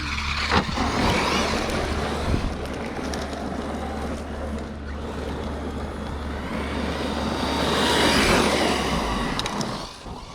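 An Arrma Fireteam RC car with a Hobbywing Max 8 G2 2250kv brushless motor drives continuously, a steady whirring rush with a brief louder surge near the end as it rips at full throttle.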